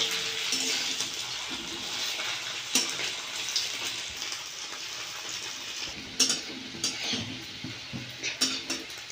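Chhana (paneer) pieces frying in hot oil in a kadai, a steady soft sizzle and hiss with occasional sharper pops and a few clinks toward the end, close and moderate.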